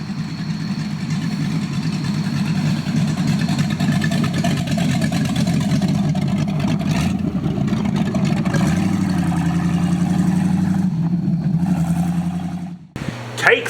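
Close by, a Ford Mustang with open headers idles with a loud, lumpy rumble that holds steady for about twelve seconds, shifts to a slightly different note partway through, then cuts off abruptly near the end.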